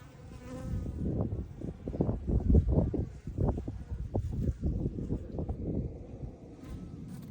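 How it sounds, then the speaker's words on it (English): Bees at a hive's top entrance, a steady low buzzing hum with swelling and fading pulses throughout, close and continuous. "And there's bees moving"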